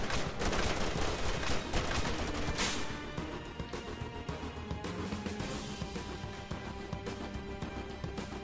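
Sustained gunfire in the Arma 3 military video game, with a heavy, dense volley of rapid shots that tapers after a few seconds into scattered, irregular cracks continuing at a distance.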